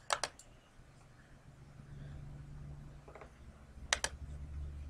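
A computer keyboard is typed on in two short bursts of crisp clicking, one at the start and one near the end, with quiet room hum between them and no voices.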